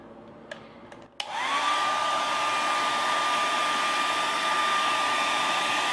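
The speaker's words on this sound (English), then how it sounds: "we're gonna blow the air dryer and like put it on high heat" A hair dryer on high heat blowing over wax starts up after a few faint clicks, rising quickly into a loud, steady whirring roar with a high whine that holds unbroken to the end.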